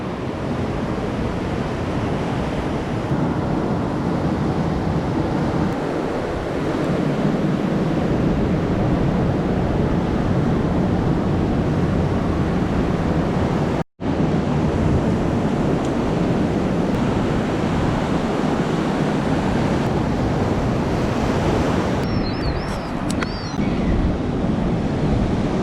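Ocean surf rolls onto Whiritoa beach on the Coromandel coast of New Zealand, a steady, loud roar of breaking waves mixed with gusty wind buffeting the microphone, continuing without pause.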